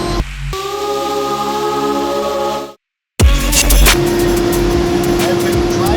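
An International 4800 4x4 crane truck engine drones steadily while driving through Texas, a loud continuous hum that cuts out briefly near three seconds, then returns with road roar and a sustained tone.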